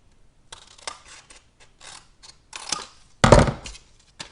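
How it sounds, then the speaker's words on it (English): Scissors snipping paper for a handmade mini album, a series of short close crisp cuts in an irregular rhythm, ending with a louder, longer slicing stroke, quiet otherwise with no talk. "I'm going to cut on an angle up to this middle section"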